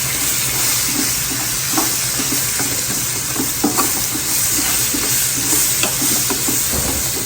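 Roast beef with peppers and onions sizzles steadily in a pan while being stirred, a continuous loud frying hiss broken by soft scraping and knocking of the utensil, close up with no talking.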